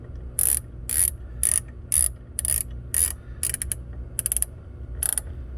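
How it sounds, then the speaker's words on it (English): A ratchet with a hex socket snugs bolts on an aluminum extrusion dash bar for a Jeep Wrangler. Close, crisp bursts of clicking repeat about once a second, some faster and shorter, with no talking. "we'll just use our hex socket with the ratchet here"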